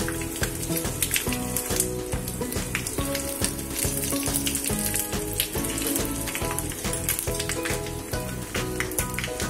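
Three red chillies sizzle in a hot oil tempering for lentil dosa batter, a loud, close, crackling spatter with sharp popping bursts and a regular pulsing hum beneath.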